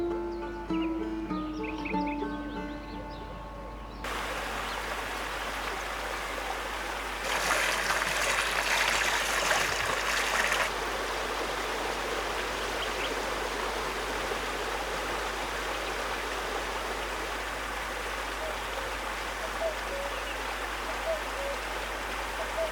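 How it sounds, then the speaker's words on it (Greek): A waterfall on Mount Athos pours in a steady, dense rush of water over stone, loud and continuous throughout, after a brief opening of other sound. "Το τραγούδι του καταράκτη"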